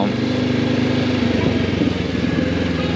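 Motorcycle engine rumbling steadily while riding on a road in Ireland, a loud, continuous low throb with a constant drone throughout.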